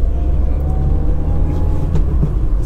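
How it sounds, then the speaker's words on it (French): A 1997 Toyota Paseo 1.5iS engine hums steadily at low pitch, a constant rumbling drone heard from inside the car, with faint road noise. "Le moteur est sonore, mais juste ce qu'il faut."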